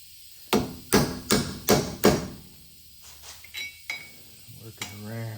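A heavy-duty scraper is hammered against a truck hub dust cap on a 2008 Silverado, giving five sharp metallic knocks at an even pace, then lighter scraping clinks and a short creak.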